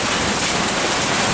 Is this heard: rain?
yes